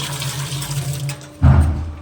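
Water is poured into a lota pot for a puja, a close, steady trickling stream that briefly stops and then comes back as a louder splashing gush.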